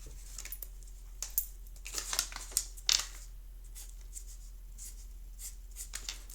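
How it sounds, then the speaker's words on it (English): Handwriting with a pen on paper, scattered short scratchy strokes and taps close to the microphone, fairly quiet, with a low steady hum underneath and no talking. "I need to write it out so you can see."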